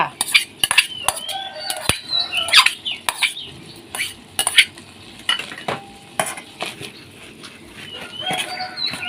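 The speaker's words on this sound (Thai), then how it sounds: "คลุกเคล้านะคะ ส่วนผสมนะคะ ให้เข้ากันจ้ะ" Thai curry with crispy pork and fresh bamboo shoots is stirred in a pot, giving irregular close scrapes and utensil clinks. Chickens chirp and crow in the background.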